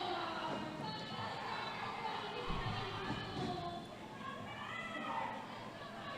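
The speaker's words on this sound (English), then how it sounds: "we have some cheering going on in-house from the skaters, cheering on the other teams" Skaters cheer in-house at a junior roller derby championship game, a lively indoor crowd of young voices hollering and chattering at moderate distance, with a commentator talking over the din.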